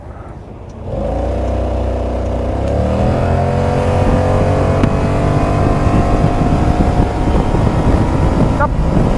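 A Kymco CV3 three-wheeled scooter accelerates hard from a standstill after a low idle, its engine note climbing steadily in pitch through the gears, loud and close with wind rush over the microphone.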